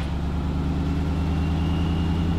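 A 1980s Ford Bronco engine, freshly restored after 38 years, runs with a loud, steady low rumble close by, a continuous idle-to-rev drone without voices.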